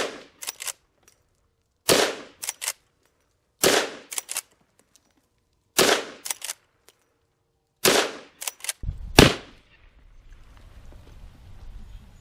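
Sharp, loud gunshots from a 357 Magnum carbine fired over a chronograph, spaced in clusters of two or three cracks every couple of seconds, followed by a low rumbling noise at the end.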